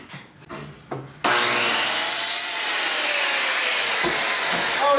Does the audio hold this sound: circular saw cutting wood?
yes